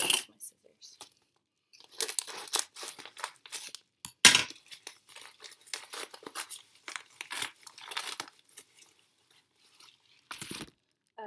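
A package box being cut open with scissors, irregular crinkling, tearing and snipping bursts of cardboard and plastic wrapping, close and moderately loud, with pauses between.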